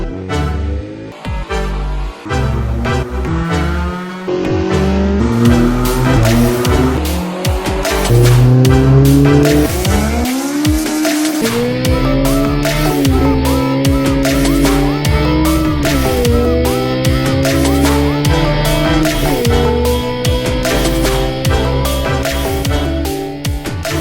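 Car engine revving hard on a dynamometer during an intake test, loud and close, rising through gears in repeated climbing pulls with brief drops between shifts, no speech.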